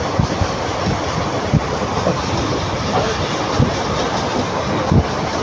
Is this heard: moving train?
yes